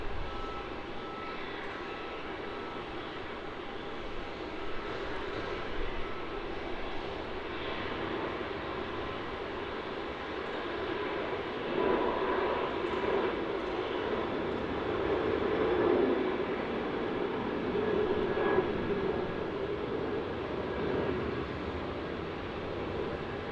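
Jet airliner departing Melbourne Airport for Cairns, heard as a steady, distant engine roar that swells gently midway and stays fairly faint throughout.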